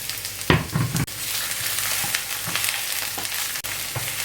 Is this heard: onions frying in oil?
yes